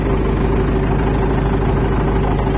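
A tractor engine idles close by at a farm, a loud, even, low rumble that holds steady and unbroken throughout, with no voices.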